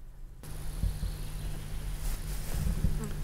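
Horsefly buzzing close by, a steady low droning hum with slight wavering pitch that starts abruptly and continues, with faint rustling and soft handling bumps underneath.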